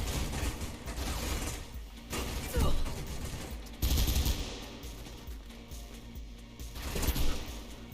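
Gunfire in the video game Mirror's Edge, dense bursts of shots and booming impacts filling the scene at moderate volume, with game sounds throughout and no clear talk over them.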